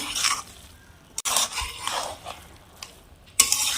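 A spoon stirs carrot halwa in a pan, giving scraping and soft sizzling sweeps in short bursts with a sharp clink partway through, close by.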